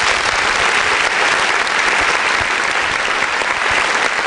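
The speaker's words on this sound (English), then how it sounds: "Another round of applause there." Loud, steady audience applause fills a hall at a youth leadership debate final, thick continuous clapping from a large crowd with no voices over it.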